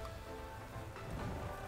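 Steady rain weather effect during a Pokémon Sword and Shield VGC battle, a continuous soft hiss of falling rain filling the background without pause.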